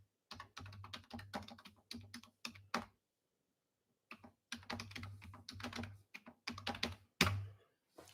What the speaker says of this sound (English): I'm going to type that in here so you can look at the words.